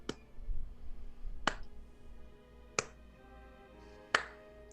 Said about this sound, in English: I think you hear a slow clap that just starts to